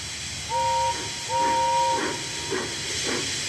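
A steam engine gives two short whistle toots followed by rhythmic bursts of hissing steam, near and fairly loud.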